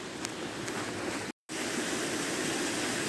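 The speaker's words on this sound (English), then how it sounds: "keep your eyes open, especially for nice little waterfalls like this" A small waterfall beside the Water of Leith walkway gives a steady, even rush of falling water, close and continuous apart from one brief silent break.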